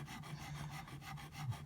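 A metal file rasps across guitar frets on the fingerboard of a Squier Bullet Mustang, quick rhythmic back-and-forth strokes, close and quiet with no voices.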